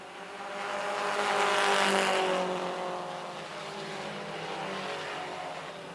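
Four-cylinder pro race cars running a feature on a racetrack, engines droning steadily at full throttle as the pack swells closer and then recedes, a continuous roar without talk.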